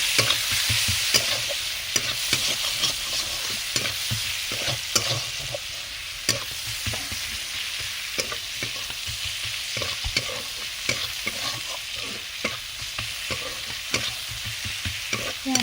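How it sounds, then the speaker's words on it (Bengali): Chopped onions sizzle steadily in hot oil in a pan, with frequent clinks and scrapes of a spoon stirring throughout. "ভালো করে পেঁয়াজটা ভেজে নেবো"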